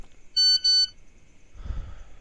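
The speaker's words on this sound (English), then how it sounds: "Turn your ringtone off, bro." A phone ringtone sounds in the horror video game After Midnight, two short bright electronic beep bursts in quick succession, followed by low rumbling noise.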